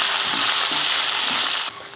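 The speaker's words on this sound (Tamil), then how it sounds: "இதெல்லாம் நல்லா வதக்கி விட்டுறலாம்" Carrots, garlic, onion, red chillies and curry leaves sauté in a pan with a close, continuous sizzling hiss and faint stirring, easing slightly quieter just before the end.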